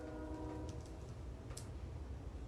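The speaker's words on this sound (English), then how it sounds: "And of course, there's a train coming through." A train passing nearby produces a steady low rumble with a faint horn-like tone and a few clicks, heard indoors and fairly quiet.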